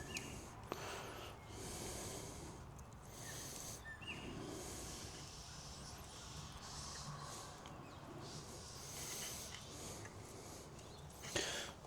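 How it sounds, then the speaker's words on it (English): A dog takes big, repeated sniffs at a door, the snorting breaths coming close and steady against a continuous background hiss, with a couple of sharp clicks near the start and the end. "he's at the door doing big sniffs at the moment"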